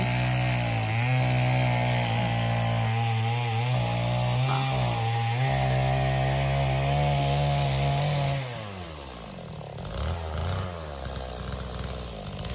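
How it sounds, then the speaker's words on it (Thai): A chainsaw runs steadily at high revs while cutting wood in a forest, then its engine pitch drops and it idles lower near the end. "เสียงเลื่อย"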